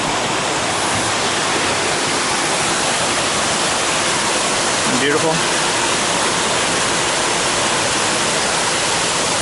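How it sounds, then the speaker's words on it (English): Large courtyard waterfall beside a koi pond, a loud, steady broadband rush of falling water filling the scene, with a brief spoken remark over it midway. "Here's the big waterfall on this side."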